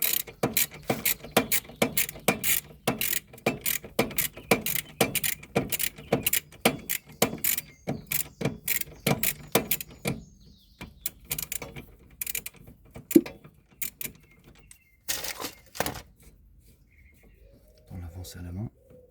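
A 19 mm wrench works a bolt on a Renault Twingo, giving dense, rapid metallic clicks and clacks for about ten seconds, then sparser taps and a few bursts, with some background chatter.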